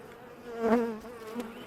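Honey bees buzz close by during a routine apiary hive inspection, a steady droning hum that swells briefly near the middle and then settles back to a softer whine.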